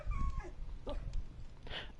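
A wolf pet in the Minecraft Bedrock Edition video game makes soft dog-like whimpers and yips, brief and close, over a low game background.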